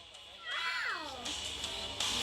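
A pet cat meows with a rising-and-falling tone at close range while the household hurries to hide it, the cry lasting about a second amid light background noise.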